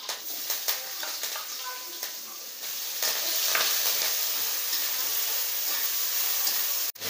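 Cumin seeds and curry leaves crackle and sizzle in hot oil for a jumbo vada pav filling, a steady close frying hiss that swells partway through and holds, with occasional small pops and scraping.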